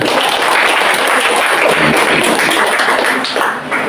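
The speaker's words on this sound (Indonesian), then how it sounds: "Tepuk tangan dulu." Loud, close applause from a school audience at an Indonesian elementary school's semester showcase, dense rapid clapping sustained throughout and easing a little near the end.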